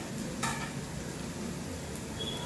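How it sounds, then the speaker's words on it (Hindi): Onions browning in a pan on a home stove, a soft steady sizzle with a couple of brief stirring scrapes, quiet and without talk. "अभी ये प्याज को अच्छा ब्राउन होने तक पकाऊंगी।"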